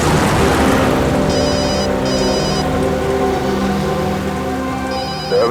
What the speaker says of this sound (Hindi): दयाबेन का फोन